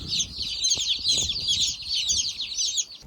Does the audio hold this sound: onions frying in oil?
no